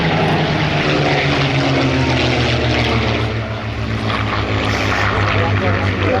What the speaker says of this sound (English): A PR-11 leads this pair of PR Spitfires with the Mark 19.